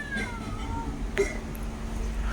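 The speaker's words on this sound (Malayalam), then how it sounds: "വെള്ള പൂച്ചയാണ് കേട്ടോ" A white cat meowing at mealtime, a couple of drawn-out faint meows over a low background hum, ending with a brief sharper sound.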